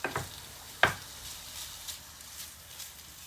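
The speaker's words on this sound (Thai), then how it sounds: "พัดหมูไปสักหน่อยเนาะ" Pork belly stir-frying in a pan for a bamboo-shoot curry: a soft continuous sizzle with a sharp scrape or clatter of the utensil near the start.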